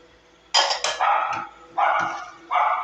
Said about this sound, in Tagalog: Ang ingay ng aming aso, napakaingay.